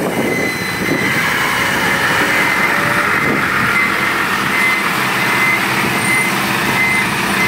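A Hino dump truck works at an excavator dig site where a pond is being dug, giving off a continuous broadband rumble with a faint high reversing-style tone throughout, steady and fairly loud, with no talk.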